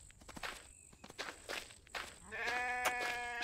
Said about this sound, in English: Oh, a goat.